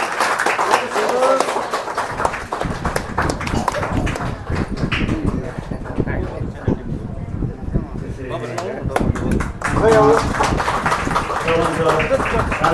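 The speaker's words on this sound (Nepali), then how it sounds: "हामी जोरदार ताली बजाएर उहाँहरूलाई धन्यवाद दिन्छौँ।" Audience applause at a Women's Day commemorative celebration, a scattered patter of clapping running beneath a speaker's voice and swelling through the middle before talk takes over again.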